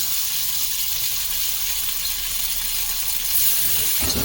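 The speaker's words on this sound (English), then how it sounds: "go ahead and add your meat, and do this in stages" Steak pieces searing over high heat in a hot pan, a loud continuous hiss and crackle of frying that holds steady and swells slightly near the end.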